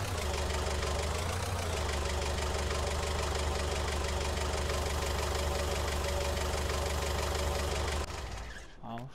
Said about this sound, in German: Jetzt zeige ich euch mal, wie man die Gabelstapler fährt.